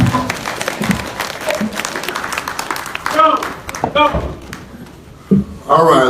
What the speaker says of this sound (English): Give them a round of applause, a strong, come on.